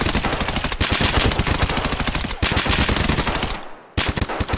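Loud, close automatic gunfire in Escape from Tarkov sounds in rapid sustained bursts, with a brief pause partway and a short gap near the end before the firing resumes.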